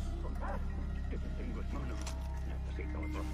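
Dog barking in the Far Cry 3 video game, a few short barks half-buried in a dense, steady game soundscape with a low constant hum and ambient noise throughout.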